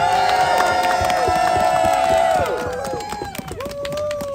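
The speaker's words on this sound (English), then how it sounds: "let's give the biggest applause and thank you and whatever noise you want to make for Jessica Denson." A crowd cheers, whoops and claps at an anti-Trump protest in Washington, DC, a loud steady roar that continues without pause and then thins a little toward the end.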